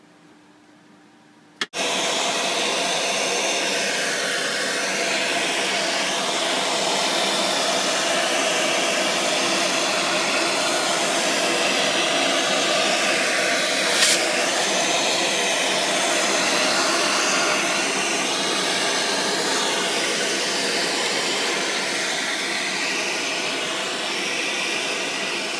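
A vacuum cleaner switches on after a short quiet moment and roars steadily and loudly at close range for the rest of the span, used to clean out a WHS Version 1 unit before its battery is removed.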